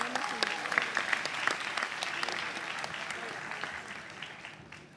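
Audience applause welcoming a speaker at a school fest in Lima, steady dense clapping from a crowd that holds for several seconds and gradually fades.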